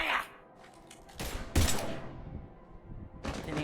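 Gunfire in the video game Mass Effect 3: a few loud bursts of shots, separated by quieter gaps, with a strong close blast in the middle.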